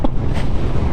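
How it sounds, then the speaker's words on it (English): Wind batters the rider of a Kawasaki Ninja 1000 SX at speed on a windy day, producing a loud, low, continuous rumbling roar of microphone buffeting with no break. "I am actually getting beat up by the wind right now."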